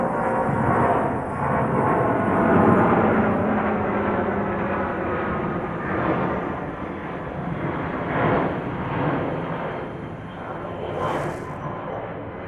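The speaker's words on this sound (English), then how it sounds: "from this position, you get all the nice big jet climb outs" A big jet airliner roars steadily as it climbs out after takeoff from Heathrow Airport, a broad, loud, continuous engine rumble that swells and slowly fades, with no talking.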